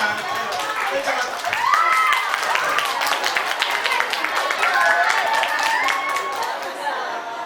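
Classroom audience clapping at a character-building talk, a steady patter of many hands over several seconds at moderate level, with voices calling and chatting through it.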